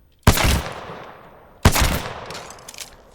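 Two loud, close bursts of automatic gunfire from Apex Legends, each a rapid rattle of shots lasting about a second, separated by a short pause and followed by a few trailing pops.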